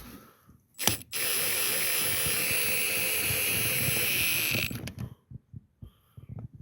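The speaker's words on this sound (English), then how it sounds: "So I'm going to loosen that, lift up on the wheel a bit so I can get my socket in there." A socket ratchet loosening a lug nut on a Jeep JK wheel during a DIY brake job: a loud, continuous mechanical whirring rattle lasting several seconds, close by, followed by scattered clicks and clunks.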